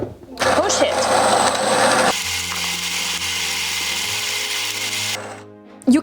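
A Casabrews 5700GENSE espresso machine grinds coffee beans with a loud, close, steady mechanical whir that shifts in tone partway through before stopping abruptly, and a voice speaks briefly over the start.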